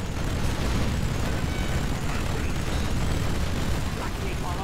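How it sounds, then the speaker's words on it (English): A nuclear missile detonation in Command & Conquer Generals Zero Hour (Generals Continue mod, China campaign), a loud sustained roaring rumble with crackling debris that fills the whole stretch without letting up. "We have launched our nuclear missile."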